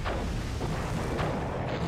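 Artillery cannon shots in the strategy game Cossacks, rumbling low booms from frigate guns in a naval battle, several muffled blasts overlapping in quick succession under a steady roar.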